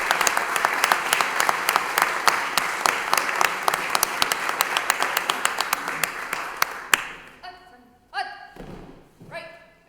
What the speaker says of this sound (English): Give yourselves one more round of applause, Joe.